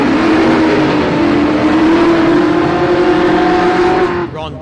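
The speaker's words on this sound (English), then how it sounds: "It's a 372 cubic inch Chev under the bonnet of that UC." A drag race car, a UC Torana with a 372 cubic inch Chev engine, holds a loud, sustained droning engine note at a street drag strip before it cuts off abruptly near the end.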